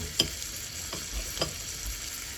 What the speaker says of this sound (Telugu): కారం, పసుపు, ధనియా పొడి, జీలకర్ర పొడి వేసి కొంచెం ఫ్రై చేస్తాం